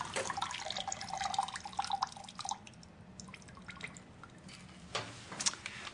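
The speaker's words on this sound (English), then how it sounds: "I'm going to squeeze the lemon fresh." A fresh lemon is squeezed by hand for a gin Bloody Mary, its juice falling in quick, faint drips and trickles that ease off halfway, then return briefly.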